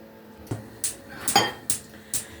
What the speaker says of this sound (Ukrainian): спагеті і викладаємо на пательню до нашого, до нашої підчеревини підсмаженої